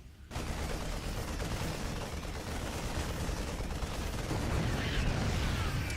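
Units attacking a supply depot in StarCraft 2 during a slow push match: a continuous, loud barrage of rapid gunfire and explosive bursts that builds slightly in intensity, with no talk over it.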